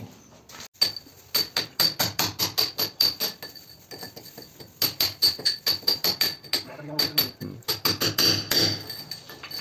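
Repeated hammer blows while demolishing a termite-eaten wooden door frame, sharp close strikes in quick rhythmic bursts with short pauses between runs.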